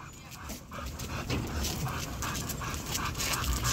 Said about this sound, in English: There's a dog coming up there, a little dog.